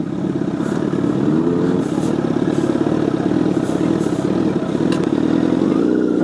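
A Honda Fireblade SP motorcycle rides off-road, its engine droning steadily and close with rising and falling rev sweeps and some clattering, no talk over it.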